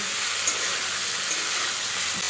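Spice masala with tomato and raw onion frying hard in a pan for fish curry, giving a loud, continuous sizzle and hiss with faint spatter pops throughout.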